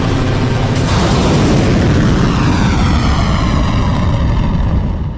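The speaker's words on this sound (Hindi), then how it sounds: "सन्नाटे को चीरती मिसाइल का शोर हुआ।" A missile launch roars as a continuous, loud, broadband rush that fills the whole stretch and stays steady without pause.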